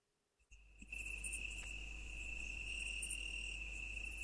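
Crickets chirp in a steady, continuous high trill that starts after a quiet opening and holds at a faint, even level with no talk over it.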